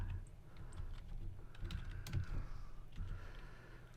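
Someone types on a computer keyboard, a quiet run of uneven key clicks and taps heard close up over a faint room hush.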